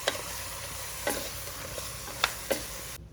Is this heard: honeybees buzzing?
no